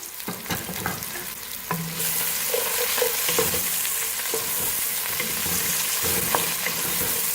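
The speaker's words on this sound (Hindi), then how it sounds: "ऑयल गर्म हो चुका हुआ है। उसमें प्याज शामिल करेंगे।" Two large thinly sliced onions hit hot oil; a few stirring knocks come first, then a louder, steady sizzle settles in, with occasional spatula scrapes up close.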